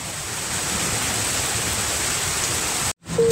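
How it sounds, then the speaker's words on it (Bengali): Steady rain falls on a cloudy afternoon as a dense, even hiss close by, continuing unbroken until a sudden brief cut near the end. "দেখুন মেঘলা আকাশ, বৃষ্টি হচ্ছে।"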